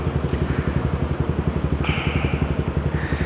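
A motorcycle with an aftermarket exhaust runs with a loud, steady rhythmic pulsing engine note, throbbing close by throughout, with a brief rise in pitch partway through.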